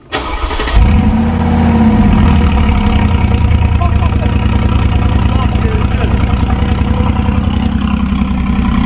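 Mercedes G63 Brabus with a 5.5-litre V8 biturbo making 585 horsepower fires up in a garage, then holds a loud, deep, rumbling idle with steady revving, close by.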